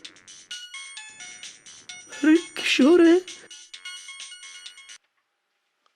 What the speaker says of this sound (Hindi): टूटे हुए फोन पे फोन कैसे आ रहा है?